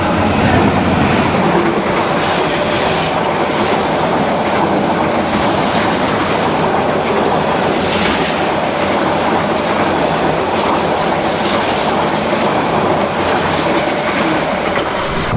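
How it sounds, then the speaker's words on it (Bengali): Chilahati Express train rolling onto the Jamuna rail bridge, heard from inside as a continuous loud rumble with steady clickety-clack of wheels on rails and occasional faint squeals, no speech. "এখন আমাদের ট্রেন প্রবেশ করতেছে যমুনা নদীর ওপর নির্মিত যমুনা রেল সেতুর ওপর"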